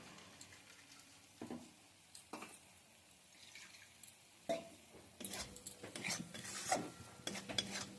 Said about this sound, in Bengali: এটা একটু ভালো করে কষিয়ে নিই